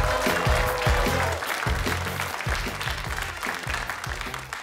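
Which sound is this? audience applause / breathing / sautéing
audience applause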